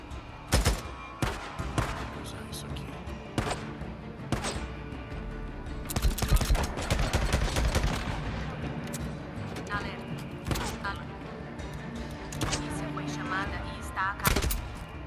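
Gunfire in the video game Days Gone, with sharp single shots and rapid automatic bursts scattered across the scene, loud and close, under a game voice making announcements.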